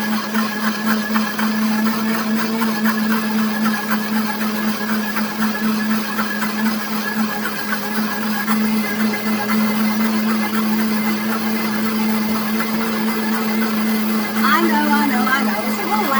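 A kitchen blender grinding peanuts runs continuously at a steady, loud pitch for the whole stretch, with a brief rattle near the end.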